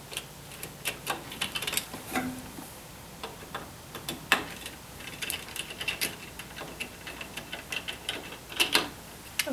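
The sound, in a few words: screwdriver driving screws into a loom bracket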